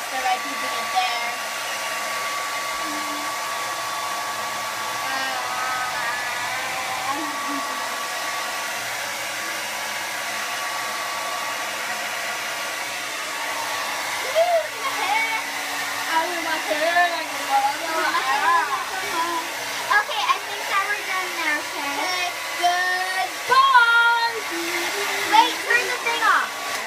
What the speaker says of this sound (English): I'm just trying to dry it faster by keeping it there.